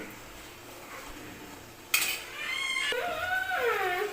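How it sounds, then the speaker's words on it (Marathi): Ground dal is scooped out of a mixer jar into a metal sieve in a home kitchen: a utensil scrapes, then a few bright metallic clinks and ringing tones stand out clearly against a quiet room. "ही सगळी डाळ मिक्सरमध्ये मी या चाळणीमध्ये काढून घेते"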